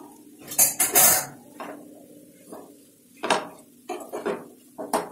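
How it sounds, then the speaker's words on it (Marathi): Maggi noodles are tossed with masala in a metal pan, a spoon clanking and scraping against the pan in irregular bursts, loud and close, no voices. "याच्यात आपण मॅगी टाकून घेऊया"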